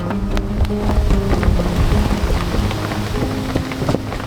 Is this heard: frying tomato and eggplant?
no